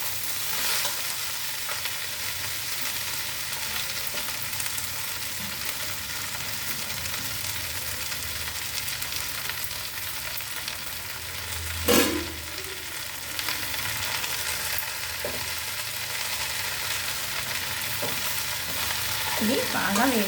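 A pickle tempering of cumin, mustard seeds, green chillies and curry leaves fries in hot oil for jackfruit avakaya, giving a continuous close sizzle with a brief clatter midway and no speech.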